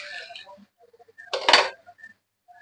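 A metal lid comes off a pan of Bengali bhola fish curry with a single short, bright clatter, framed by faint clinks in an otherwise quiet kitchen.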